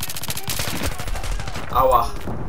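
AK rifle fire in Battlefield 3 multiplayer, a fast rattling automatic burst up close, steady and continuous through the short stretch, with game noise under it.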